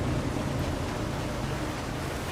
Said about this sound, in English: Whoa, flash flood.